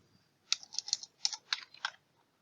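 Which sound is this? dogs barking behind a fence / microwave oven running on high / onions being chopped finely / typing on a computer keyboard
typing on a computer keyboard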